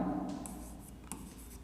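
Marker or chalk strokes on a board during a geometry lesson, a few short scratchy squeaks close by and fairly faint over a low background hum.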